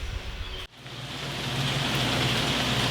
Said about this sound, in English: It's really hard for you guys to hear me on a tin roof, or in a building with a tin roof while it's raining.